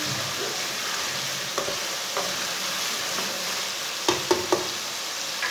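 Tomatoes and spices sizzle in a pan with a dense, steady hiss close by, and a few sharp utensil taps sound near the end.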